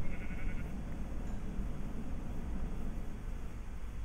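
A green sheep bleats in Minecraft against a steady hiss of background noise, with a brief higher cry near the start.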